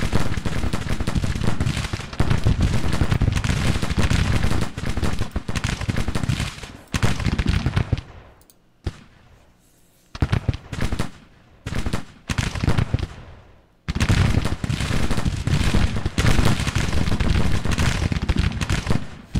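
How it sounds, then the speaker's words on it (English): Massed musket fire from skirmishers shooting into an enemy flank in the Civil War strategy game Grand Tactician, dense crackling volleys that are loud and sustained, drop off briefly into sparse pops, then resume. "Maybe if we send some skirmishers out, they'll be able to engage right away. Start firing on their flank."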